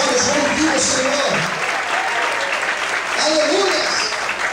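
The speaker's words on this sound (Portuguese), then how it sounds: "Quantos podem aplaudir a Deus mais forte?" A church congregation applauds loudly during a worship service, sustained clapping that swells and eases, with a preacher's voice and crowd voices heard over it.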